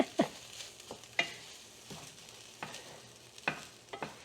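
Egg fried rice stirred and fried in a pan, sharp scraping and clacking stir strokes at irregular intervals over a soft background sizzle, close and alone without talk.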